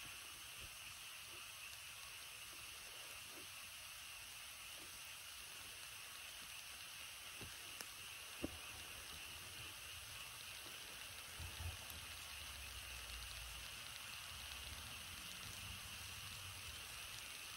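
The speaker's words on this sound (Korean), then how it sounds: "지글지글 소리 들리네" Bread bakes in a primitive clay mud oven with a soft, steady sizzling hiss and faint crackles, low and constant throughout, with a couple of small pops.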